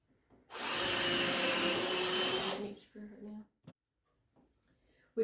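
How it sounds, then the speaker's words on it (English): A power tool whirs loudly for about two seconds at a Habitat for Humanity build site, driving a screw into wood before cutting off, followed by quieter clicks and handling sounds. "These power screwdrivers have obviously quite a lot of power, so they will bend the screws,"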